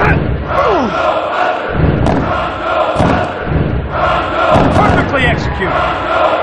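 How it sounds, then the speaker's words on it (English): A virtual arena crowd in the N64 wrestling game WWF Attitude roars and cheers continuously at loud volume, rising in swells during a four-way match, with commentary voices over it. "Listen to this crowd!"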